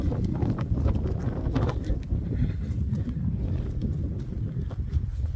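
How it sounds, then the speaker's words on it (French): Wind gusts across a microphone outdoors in a garden at Jardin le Point du Jour in Verdelot, a continuous low rumbling buffet with uneven surges, loud and close throughout. "Il y a du vent là, ça va chasser les nuages."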